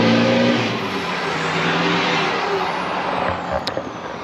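Nissan NP300 Navara fitted with a 4-inch DPF-back exhaust pulling away on a street, heard from the roadside as a loud, steady diesel drone that slowly fades.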